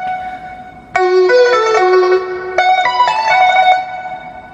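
A melody layered from a Chinese woodwind with strings and pipa, bright sustained tones entering sharply and moving through a few phrases before trailing off, played alone without voices.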